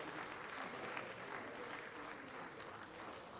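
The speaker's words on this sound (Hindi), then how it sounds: "जोरदार तालियों से स्वागत कीजिए श्रीमती शोभा ए" An audience at an official language conference applauds an award winner, a steady, faint wash of clapping that continues evenly throughout, with no voices standing out.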